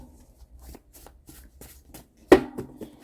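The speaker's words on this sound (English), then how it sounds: "Let's get some oracle cards and see what they want to say. 3 shuffles, and I'll take the 3 cards on the top." A deck of oracle cards shuffled by hand in a quiet room: soft riffling rustles through the first seconds, then a sharp louder card snap and a few closing taps near the end.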